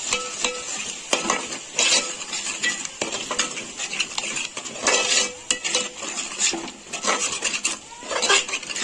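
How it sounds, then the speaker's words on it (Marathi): Steady scraping and clinking as vegetable pulao ingredients with half a cup of yogurt are stirred and mixed in a pot, spoon knocking against metal in irregular bursts, close and fairly loud with no voices. "छानपैकी असं मिक्स करून घ्यायचं आहे."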